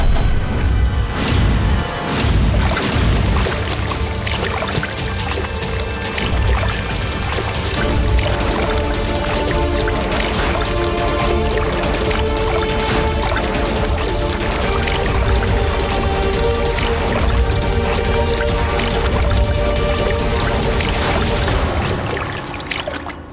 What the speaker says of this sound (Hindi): हम उसे पानी में डुबा रहे हैं